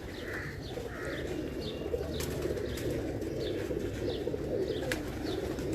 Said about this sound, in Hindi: ये स्लेटे कबूतर देखें जी, ये बहुत ही ज़बरदस्त किस्म का कबूतर है